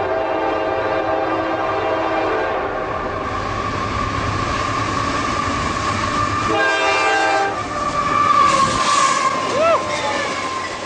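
A train passes through a busy train station, a loud rumbling, rattling pass with a sustained horn and sharp squealing wheel tones near the end, while a person talks over it.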